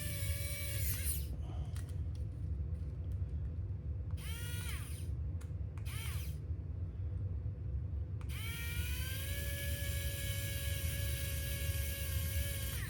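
A small power driver spins screws into an Axial SCX24 crawler's suspension in short whirring bursts, each rising in pitch and stopping, over a steady low background hum.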